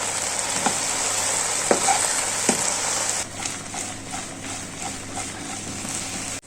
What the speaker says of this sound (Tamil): பொரிச்சு வச்ச கோபியை இப்போ மசாலா சேர்த்து நல்லா கலக்கிக்கலாம்